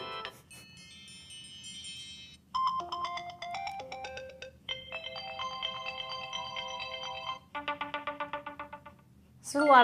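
A sequence of new iOS 7 iPhone ringtones previewed one after another on the phone: bright synthetic melodic tones, chimes and arpeggios, each short pattern changing to the next, clear and close with faint background hum.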